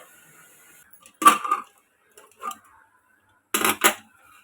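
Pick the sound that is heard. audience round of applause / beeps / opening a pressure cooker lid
opening a pressure cooker lid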